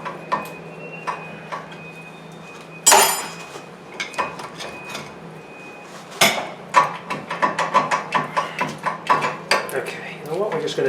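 Front brake caliper coming off a 2007 Chevy Silverado, with scattered metallic clicks, knocks and a louder clank, then a run of rhythmic tapping and rattling close by.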